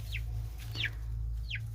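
Hens in a coop cluck softly, three short calls spaced apart over a steady low hum, fairly close and quiet with no talking.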